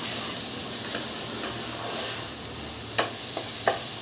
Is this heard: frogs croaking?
no